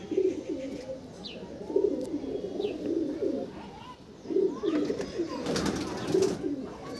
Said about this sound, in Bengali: একটা সিঙ্গেল মেল পায়রা থাকছে, এটা আন্ধ্রা পায়রা